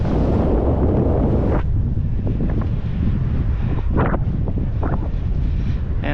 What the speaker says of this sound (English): And the wind is at it again,